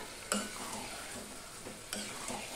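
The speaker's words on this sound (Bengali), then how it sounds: "এই অবস্থায় আমি এই ম্যারিনেট করা মাংসটা আমি দিয়ে দিচ্ছি, দেখতেই পেলে। এবার কিন্তু আমি গ্যাসের ফ্লেমটা বড় করে দিলাম।" Marinated chicken fries in a pan over a high gas flame with a constant sizzle, broken by two sharp scraping stirs about a second and a half apart, close and fairly quiet, with no voices.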